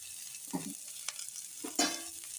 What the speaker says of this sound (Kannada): ಎರಡರಿಂದ ಮೂರು ನಿಮಿಷ ಈ ತರಕಾರಿನೆಲ್ಲ ಚೆನ್ನಾಗಿ ಬೇಯಿಸ್ಕೊಳ್ಳಿ